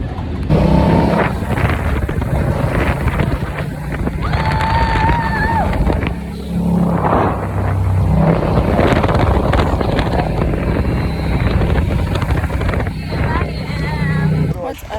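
Strong wind buffets the microphone on a Miami beach, a constant loud rumbling roar through the whole stretch, with voices talking underneath and faint background sounds drifting through.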